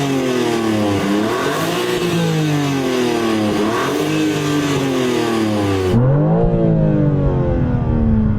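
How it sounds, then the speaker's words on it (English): A BMW engine with an M Performance exhaust revs hard, pitch climbing and dipping in repeated surges, then settling into a throaty idle rumble near the end. "let's first of all hear your engine, because it's got the M Performance upgraded exhaust on it."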